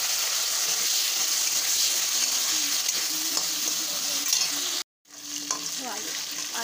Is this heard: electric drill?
no